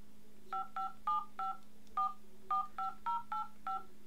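Eleven short dual-tone keypad beeps from a Cubot Rainbow 5-inch Android smartphone being dialed, evenly spaced with brief pauses, clear and close against a faint steady hum.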